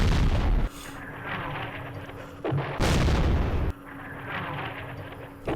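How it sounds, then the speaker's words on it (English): Artillery fire in the Vietnam war game Campaign Series Vietnam at Dien Bien Phu: heavy booming blasts with long rumbling tails, one burst after another filling the clip, close and loud with no talk. "It's the artillery that gets us."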